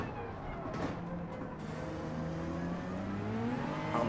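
Nissan GT-R GTO Nismo race car engine in Gran Turismo 7, revving and climbing in pitch as the throttle opens, moderately loud with a person talking over it.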